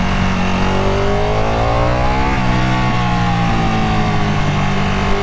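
A Ducati 959 Panigale superbike engine revs and pulls hard, its loud, close exhaust note climbing in pitch and dipping before climbing again, continuous and without talk.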